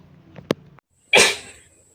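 Villagers sneeze in a school theatre play: a short nasal intake and sharp burst, then after a pause one loud, breathy sneeze that trails off, close to the microphone.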